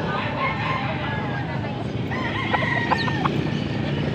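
Roosters at a cheap chicken market in Angeles, Pampanga crow and cluck amid a constant din of market noise, with one clear crow rising near the end.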